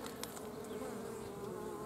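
Honeybees buzz steadily at a biostup hive in cold weather, a dense, continuous drone that stays close and even throughout.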